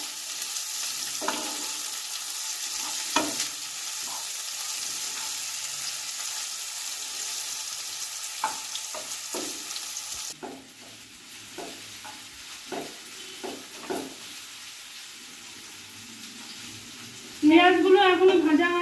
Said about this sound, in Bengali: এবার সবগুলোকে একটু ভাজা ভাজা করে নেব।